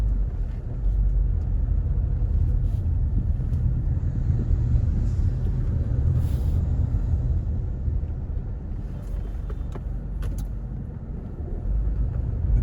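Steady low road rumble from cars on a busy Jamaican street, with a wrecker tow truck pushing through traffic nearby; the engine drone runs continuously throughout, with occasional faint clicks and knocks.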